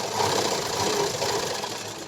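A sewing machine runs continuously while stitching a blouse, a steady mid-pitched mechanical whir and rapid needle chatter at moderate, even volume with no talking.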